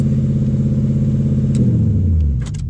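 Corvette engine idling steadily, then revving up as the throttle is moved, pitch sliding downward before the sound drops off, with a few sharp clicks and clatters near the end.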